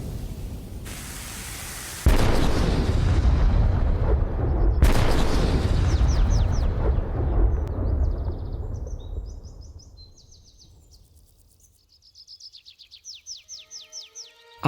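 A cannon fires a single heavy blast, a broad boom with a long rumbling decay, followed by a second sharp report, the echoes fading into quiet as birds chirp nearby afterward.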